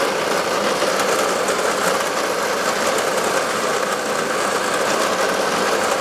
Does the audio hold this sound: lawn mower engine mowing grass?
yes